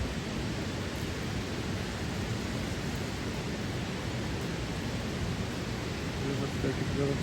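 Petrol tops up a Bajaj motorcycle's fuel tank at a pump, a constant, full rushing hiss that barely changes and swells slightly near the end.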